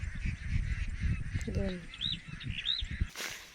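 Young domestic ducks kept as backyard stock give a few short honking calls at a distance over outdoor noise and faint voices.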